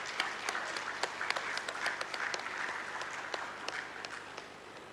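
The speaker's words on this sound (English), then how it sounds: "I would request everybody to put in a huge round of applause for our esteemed alumni." An audience applauds esteemed alumni at an NIT Durgapur foundation day and jubilee celebration, with moderately loud clapping from a hall full of people, individual claps popping out of the steady wash.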